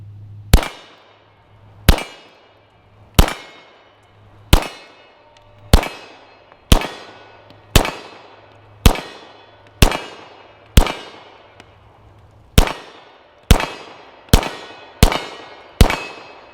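A 9mm Hudson pistol firing steel-cased Brown Bear ammunition, about fourteen loud, sharp reports at a steady pace with brief ringing decay after each, spaced roughly a second apart and coming faster toward the end.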